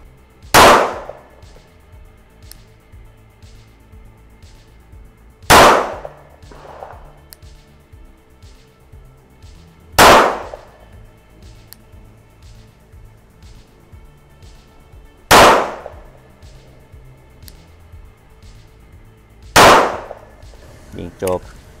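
Five sharp, loud pistol shots from a Glock 43X MOS at a shooting range, fired singly at roughly five-second intervals, each with a short ringing decay and quiet gaps between.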